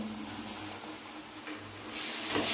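Bottle gourd greens with salt and turmeric stirred in a hot pan, giving a continuous sizzle that swells louder toward the end, with light scraping and no talk.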